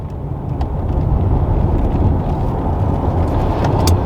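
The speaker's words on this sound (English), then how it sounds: "So, for example, this has a 3 litre petrol V6 twin turbo" A Porsche Macan GTS with a 3-litre petrol twin-turbo V6 driving on a British B-road, heard as a loud, steady low engine and road roar from inside the car, with no voices.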